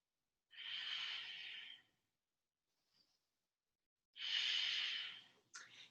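Two long, close breaths during a vinyasa yoga class, each a soft airy exhale lasting over a second, separated by quiet, with a short faint puff between and a brief sniff at the end.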